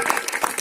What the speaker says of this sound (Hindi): तो जोरदार तालियों से अनुश्रुति का स्वागत।